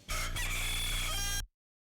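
A see-and-say children's toy plays a recorded rooster crow, one loud electronic cock-a-doodle-doo lasting about a second and a half before cutting off abruptly into silence.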